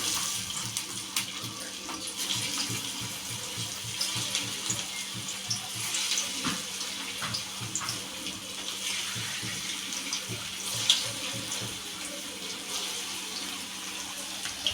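Poha vada go into hot oil in a pan, raising a steady, close crackling sizzle that continues throughout with no talking.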